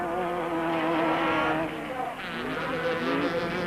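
A Haas Chenoweth race car screams past on a circuit, a high, buzzing engine note that rises and then drops in pitch as it goes by, with a commentator talking over it.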